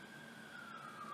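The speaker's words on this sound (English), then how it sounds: "you might be able to hear some sirens in the background" Emergency vehicle sirens wail faintly in the distance, a single steady tone gliding slightly in pitch, with no talking.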